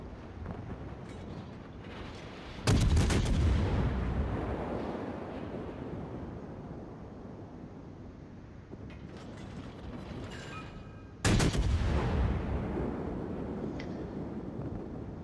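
Battleship guns fire in a naval video game: two loud, booming blasts spaced several seconds apart, each trailing off in a long rumbling decay over a steady wind-and-sea ambience, with no talking.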